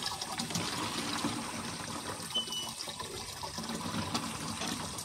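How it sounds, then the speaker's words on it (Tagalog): Water runs steadily from a hand pump, a continuous splashing trickle that stays fairly faint and even throughout, with no talking. "tingnan nyo yung takbo ng tubig"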